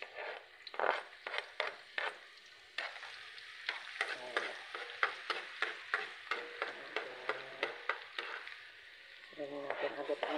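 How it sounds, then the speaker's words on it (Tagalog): Garlic, onion and ginger sautéing in oil for chicken pastil, a quiet sizzle broken by a regular series of scraping stirs with a spatula in the pan, with a voice speaking briefly. "Ganyan natin agad ang ating sibuyas at konting luya. Gigisa lang natin yan guys."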